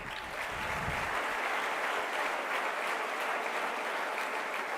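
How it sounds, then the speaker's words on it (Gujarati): An audience at a motivational talk breaks into applause, a broad, sustained wash of clapping from many hands that starts quickly and holds steady at moderate distance, with no speech over it. "આ ભાઈ માટે એક જોરદાર તાળી પાડો."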